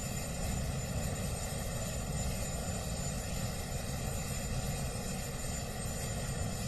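Helicopter rotors at a presidential inauguration, a steady broadband whirring drone with engine rumble and wind, continuous and fairly loud throughout with no talking.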